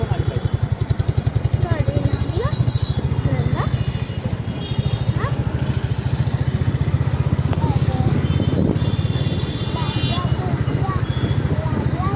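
A motorcycle engine throbs close by with a steady rhythmic putter while riding on a road at night. A voice talks over it throughout, and brief horn-like tones sound now and then.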